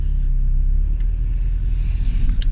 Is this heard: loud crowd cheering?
no